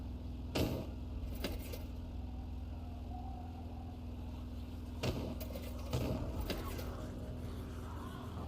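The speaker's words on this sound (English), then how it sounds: "Engine sounds rough, don't it?" A rough-running car engine in The Secret World video game idles with a steady low hum, broken by a few short metallic clinks.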